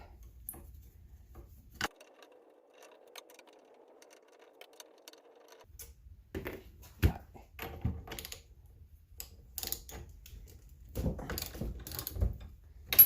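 Bolts are loosened and pulled from the steering wheel of a 1977 Chevy Camaro, with a ratchet's clicking, scattered metallic taps and clinks of parts, close and quiet in a mostly hushed garage.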